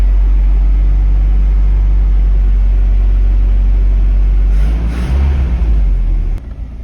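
Engine of a 1982 Japanese pickup, an old carbureted truck, held at a steady loud idle-level rumble, then blipped by foot around the five-second mark into a brief rising rev before settling back down.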